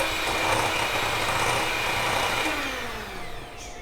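Electric hand mixer whirring steadily as it beats soft teatime cake batter, a continuous high buzzing motor drone that holds for a few seconds then eases slightly in pitch and level toward the end, with no voices.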